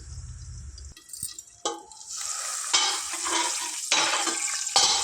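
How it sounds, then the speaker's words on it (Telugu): Dried fish fries in a pan, bursts of loud sizzling and spatting that swell and fade as the pieces are stirred, with a low hum at the start and no voices. "వట్టి చేపలు చక్కగా ఫ్రై అయ్యాయి"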